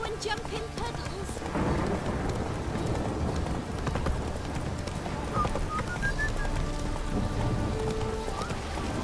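Hooves of the horse Roach galloping in The Witcher 3, a rapid steady clip-clop under rumbling game ambience of rain and thunder, with no talking.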